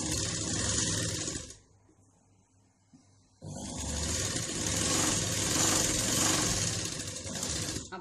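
A sewing machine runs loud and steady while stitching a lined blouse, stops for about two seconds of near silence, then starts again for a long continuous run.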